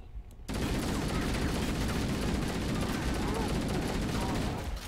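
Sustained heavy gunfire from a Halo video game match, dense and loud from about half a second in, with rapid overlapping shots and blasts continuing steadily to the end.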